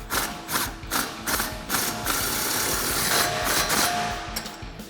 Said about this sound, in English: I'm gonna take my 3/8 gun with my 13 millimeter and tighten these up.